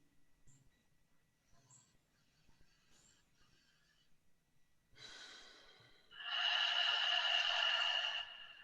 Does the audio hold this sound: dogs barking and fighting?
no